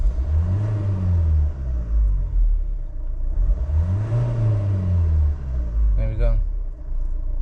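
A 2017 Vauxhall Vivaro van engine with a blocked upstream turbo pressure sensor revs up and falls back twice in rising and dropping sweeps, heard close, with someone talking briefly.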